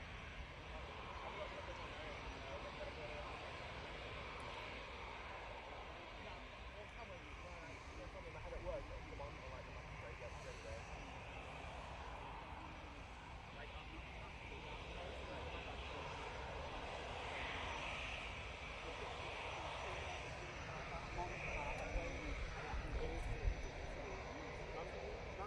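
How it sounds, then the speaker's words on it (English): EasyJet airliner arriving at Manchester Airport: a faint, distant, continuous jet engine rumble that builds slightly toward the end, heard under a steady outdoor background. "An EasyJet coming in from Berlin next, and then it will be the Emirates 777 coming in from Dubai."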